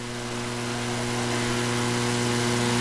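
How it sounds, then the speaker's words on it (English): Midget race car engines rev and drone steadily at the start of a heat race at Lucas Oil Speedway, a loud continuous harmonic roar that slowly builds in pitch, with no talk. "Now the RPMs will start to mount."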